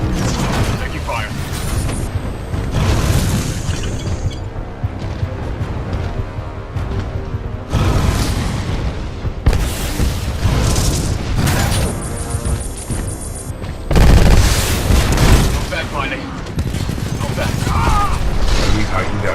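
Loud, dense bursts of weapons fire and explosions in the Titanfall 2 campaign, with crashes and booms repeating almost without a break, plus a big blast near the middle, all layered under talk.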